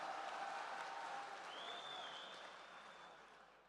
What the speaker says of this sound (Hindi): एक बार पूरा पिंडा ज़ोरदार तालियां बजाकर मेरी हौसला अफजाई फरमा ले